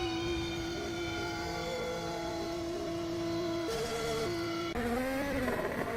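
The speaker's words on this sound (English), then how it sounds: "that Honda sounds amazing. Hondas always sound good." Honda Formula 1 engine in F1 2018 racing game at Baku City Circuit, Azerbaijan, a steady high-pitched whining drone that holds level, then shifts pitch twice near the end as revs change; loud and continuous with no talk.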